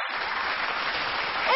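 On a televised singing competition stage, a studio audience greets a singer with dense, even applause that sounds almost like rain. Faint music creeps in at the very end.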